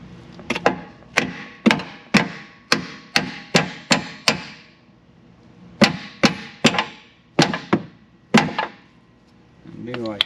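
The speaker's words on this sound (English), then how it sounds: "or you can take a hammer" Sharp metallic hammer strikes on a C3 Corvette trailing arm bolt ring out in a steady series, about a dozen blows, then a short pause and several more, close and loud.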